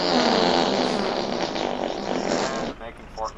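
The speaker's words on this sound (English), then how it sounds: "Making fart noises in yet another day." A long, loud, buzzing fart noise sputters for almost three seconds during a multiplayer game session, then gives way to a few faint trailing sounds.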